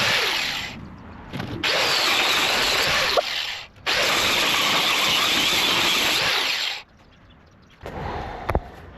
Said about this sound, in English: we've just had an angle grinder fire